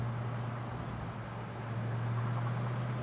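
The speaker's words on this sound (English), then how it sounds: "We're in third gear right now, going into fourth with no issues." A 1993 Ford Mustang Cobra engine pulling steadily in third gear gives a low, even drone heard faintly from inside the car, with soft road and wind rush throughout and no talking.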